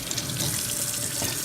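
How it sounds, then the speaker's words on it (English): Tap water pours steadily over a stainless steel cooking pan, a close, continuous hissing splash with no voices. "you can see there's water running all over it"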